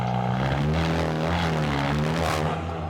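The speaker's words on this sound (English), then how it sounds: "first, I gotta take care of that exhaust. Too loud." Loud exhaust of a wrecked VW Golf GTI MK7.5 droning at a steady high level, with a rough tonal rasp that rises slightly and fades near the end, no voices.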